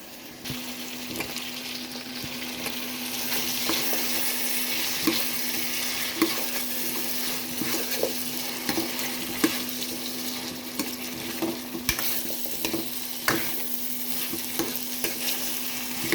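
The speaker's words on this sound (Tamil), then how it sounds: "நம்ம கத்திரிக்காயையும் முருங்கைக்காயையும் போட்டு நல்லா வதக்கி எடுத்துக்கலாம்" Freshly cut eggplant and drumstick pieces sautéing in a tomato-onion paste for a village-style tamarind curry, a continuous close sizzle broken by repeated stirring scrapes and taps from a spoon against the pan.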